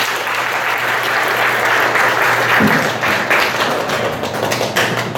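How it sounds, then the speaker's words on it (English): A hackathon audience claps together on cue, a dense burst of applause that holds steady for several seconds and then thins into scattered claps, with faint voices in the room. "when you clap, everyone clap"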